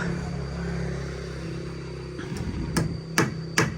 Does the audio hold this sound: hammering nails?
yes